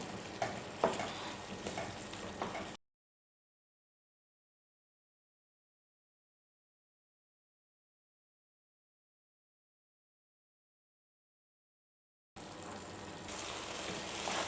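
Prawns roasting in a coconut-milk gravy sizzle and fry in a pan while being stirred, a steady close crackle heard in two short stretches separated by a long silent gap.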